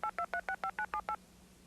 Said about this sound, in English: the phone automatically makes the call for me